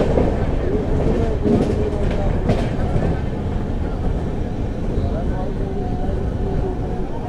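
Steady rumble and rattle of an express train running through Rajpura Junction railway station, continuous and fairly loud throughout, with a few brief clacks early on.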